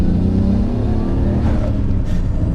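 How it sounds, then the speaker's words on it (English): A Nissan R32 GTR's turbocharged engine pulls hard in second gear, a loud, close, steady rumbling drone with rising revs and a brief airy whoosh of turbo noise near the end. "I think it's only right to start this video off with some turbo noises"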